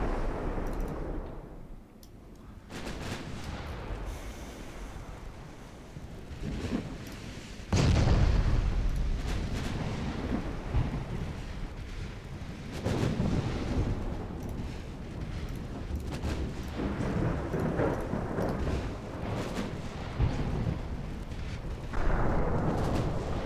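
Heavy 15-inch naval guns fire in a Greek extended campaign warship game, heard as deep rumbling booms over continuous sea and engine noise, with a loud blast near the middle and more distant thuds after.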